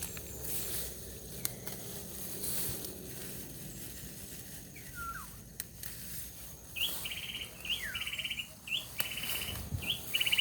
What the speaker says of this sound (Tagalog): Ayos ng ibon.